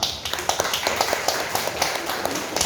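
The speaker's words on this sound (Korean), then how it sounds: "우리 모목장님도 나오실 때 큰 박수로 우리 환영하겠습니다" A Sunday church congregation claps to welcome a speaker forward, a brisk, moderately loud run of claps with distinct individual hits over a couple of seconds.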